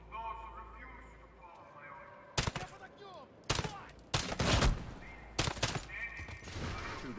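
Gunshots from the video game Call of Duty Modern Warfare ring out in several loud, sharp bursts over a quiet background, with people talking in between the volleys.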